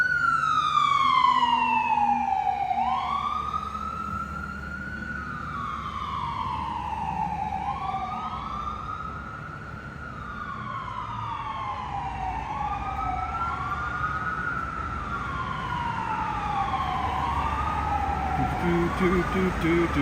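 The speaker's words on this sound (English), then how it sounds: "Siren, y'all." A wailing emergency siren sweeps up and down repeatedly, rising and falling in long cycles over steady downtown traffic rumble in Lexington, Kentucky, loud and fairly close.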